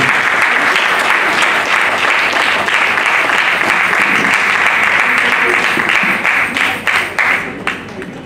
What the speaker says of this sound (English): Let's welcome with a round of applause Mr. Milind Ballal